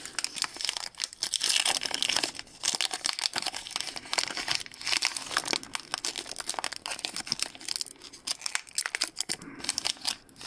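Foil wrapper of a Pokemon Sword and Shield card pack tearing and crinkling, a dense continuous crackle of plastic foil running loud and close for about ten seconds with brief pauses.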